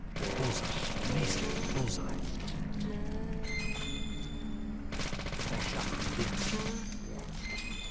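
Enemy gunfire in Deadly Premonition, sustained bursts of rapid shots in two dense stretches, loud and continuous, with game music tones and a voice speaking underneath.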